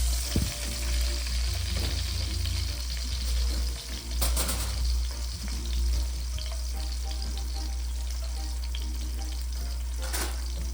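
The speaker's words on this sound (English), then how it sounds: "So now my garlic is already just a little burnt, not a lot, because I still need my garlic." Garlic frying in a pan with habanero, a steady close sizzle and crackle with a low hum underneath, broken by a few brief stirring clinks, and no one speaking.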